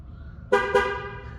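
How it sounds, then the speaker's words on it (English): Two short horn beeps in quick succession from a 2018 Chevy Equinox, close by, confirming a completed tire pressure sensor relearn, over a quiet background. "we should get a double horn beep"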